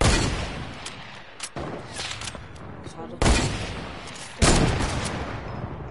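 A handful of sharp video game gunshots crack out at irregular intervals, each followed by a ringing decay, over faint background noise.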